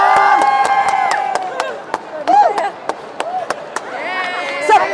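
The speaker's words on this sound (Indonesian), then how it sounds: "Tepuk tangan dong." Crowd at a live Wu Gok cooking demo during Interfood 2025 cheering and clapping in scattered bursts, with excited voices and a presenter talking over it.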